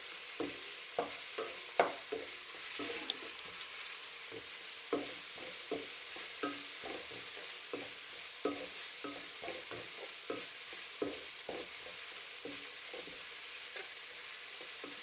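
Dried baby prawns (kuni) sambol frying in a pan, with a constant hiss of sizzling oil punctuated by frequent soft scrapes and taps of a spoon stirring, close and fairly quiet, with no talking.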